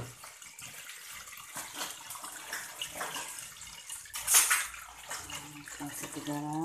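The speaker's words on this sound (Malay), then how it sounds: "Okey, kita masukkan air." Water runs and splashes into a cooking pot holding eggs and salt in a steady gush, with a person speaking intermittently nearby.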